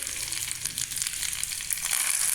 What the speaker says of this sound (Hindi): तेल हमारा गरम हो गया है, इसमें हम राई डालेंगे, तिल डालेंगे, हरी मिर्च